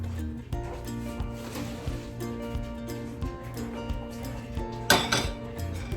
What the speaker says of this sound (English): We're gonna go dump this in the colander in the sink